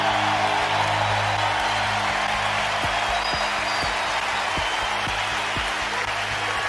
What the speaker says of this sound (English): Let's listen to the crowd here and the team come off the bench.